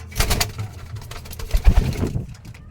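Racing pigeons coo in soft, repeated throaty bursts, close and moderately loud, with a busy rustle of birds behind them and no talk.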